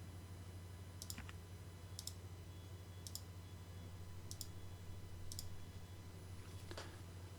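Computer mouse clicks on lines in Autodesk Inventor 3D modeling software: about six crisp, evenly spaced clicks, close and faint, over a steady low electrical hum.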